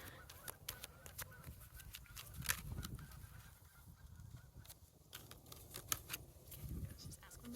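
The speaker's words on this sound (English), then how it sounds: "A chorus of geeses." A flock of geese honks in a loose chorus, with repeated overlapping calls spread across several seconds, moderately distant and mixed with outdoor background noise and faint speech-like sounds.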